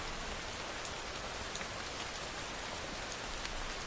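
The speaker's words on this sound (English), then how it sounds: "Listen to the sound of the rain gently falling in the background." Gentle rain falls steadily, a soft, even patter spread evenly throughout, fairly quiet, with no voices or other sounds over it.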